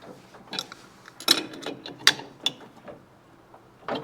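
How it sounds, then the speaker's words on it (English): A wrench ratchets while tightening a part on a Yamaha Twin Jet 100 being converted to pointless ignition, giving several short, sharp clicking bursts close up with brief pauses between them and no talk. "let's see if we can tighten it up with our wrench here"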